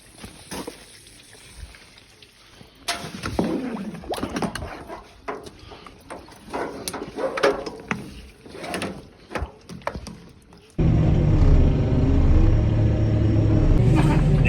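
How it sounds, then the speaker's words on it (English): A new green tractor arriving on a farm with Highland cattle: a steady, loud engine rumble that suddenly swells up close and holds after a stretch of quieter clattering and knocking yard noise. "New tractor's arrived."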